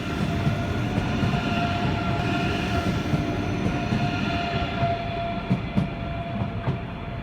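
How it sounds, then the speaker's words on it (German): An ICE 3 multiple-unit train, set 317 Siegburg, runs through Köln-Messe-Deutz station with a steady loud roar of wheels on rail, faint rhythmic clicks and a light squeal as it passes close by. "Hier zu sehen ist das Original des Triebzugs 317 Siegburg bei der Durchfahrt im Bahnhof Köln-Messe-Deutz."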